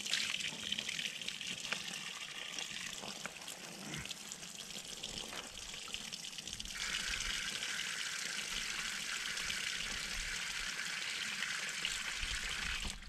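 Water pours steadily into a bucket for washing laundry off grid, a continuous quiet gushing and splashing that swells and thickens partway through.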